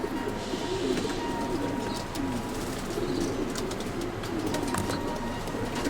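Racing pigeons at a breeding loft coo steadily in a soft, continuous chorus, with light rustling and faint chirps mixed in; the sound is moderately quiet and has no talking.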